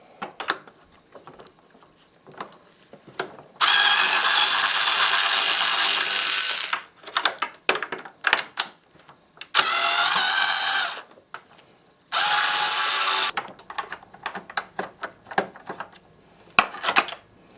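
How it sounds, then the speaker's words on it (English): A screwdriver removes screws from a Hoover WindTunnel vacuum during a motor replacement, with three sustained, loud grinding bursts between clusters of close clicks and small handling knocks. "I use the manual screwdriver for it."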